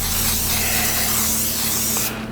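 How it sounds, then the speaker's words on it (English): Cooking spray hisses onto a baking dish for a pot pie, one continuous close spray of about two seconds that cuts off abruptly. "I'm just gonna spray with a little pan spray"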